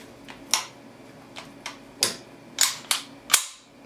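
A Springfield Armory XD45 pistol gets a safety check, with about eight sharp metallic clicks and clacks from the slide and magazine at uneven intervals, close and clear, with no talk.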